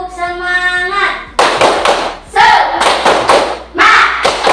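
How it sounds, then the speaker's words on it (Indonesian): A school class performs a rhythmic clapping chant in unison, with bursts of sharp claps and thumps alternating with sung or shouted words and short pauses between phrases. "Yuk kita sama-sama tepuk semangat dulu"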